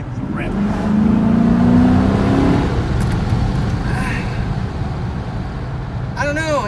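A 2015 Dodge Challenger Hemi Shaker fitted with a sprint booster revs and accelerates, a loud close engine roar that climbs, drops on a downshift and settles into a steady rumble, with a voice briefly over it.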